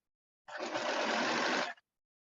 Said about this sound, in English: I just serged the raw edges so I can get ready to hem when I get done